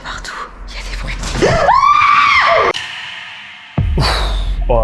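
A loud, rising human scream carries from outside a house for about a second, framed by rustling and thumps, with a few other noises after it.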